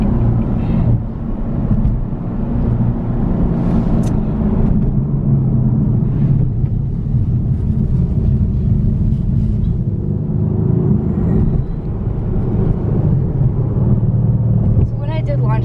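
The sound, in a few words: 2017 Mercedes-Benz AMG C63s coupe engine while driving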